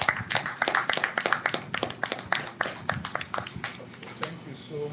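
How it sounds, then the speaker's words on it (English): An audience at a seminar gives a round of applause: dense, steady hand clapping at moderate distance that lasts the whole stretch and gradually thins toward the end. "Let's give you a round of applause."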